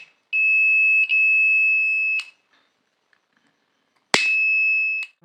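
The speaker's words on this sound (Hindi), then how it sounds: "देन हमारा buzzer and LED turn on हो रहा है।" Arduino flame sensor project buzzer sounding, a shrill steady electronic tone in two long bursts with a short gap, then a pause and a third burst, close and loud with faint clicks.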